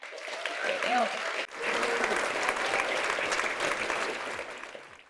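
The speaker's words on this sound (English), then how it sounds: "I would like us all to give a round of applause to the Pacific Island students fighting climate change." An audience at an event on Vanuatu's climate case at the ICJ hearing in The Hague gives a full round of applause for Pacific Island students; dense, steady clapping swells after a brief spoken lead-in and fades at the end.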